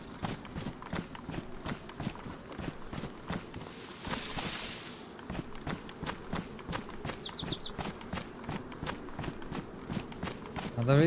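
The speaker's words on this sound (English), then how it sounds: "They can hear my footsteps" Footsteps in the video game DayZ, a quick, steady patter of light thuds running throughout at moderate level, with a brief whooshing swell midway and a few faint electronic blips.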